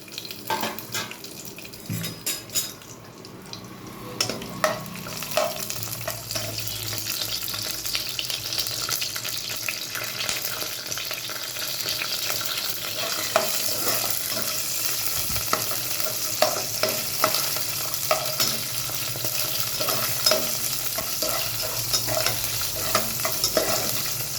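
Cashews and raisins frying in hot ghee give off a steady, fairly quiet sizzle, with occasional stirring scrapes and clinks throughout and no voices.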